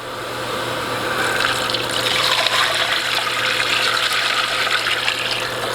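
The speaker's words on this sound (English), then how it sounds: "And I'm going to add my water." Steady rushing water pours continuously into a stock pot holding bay leaf, parsley and thyme, a full, even splashing stream with a low hum underneath.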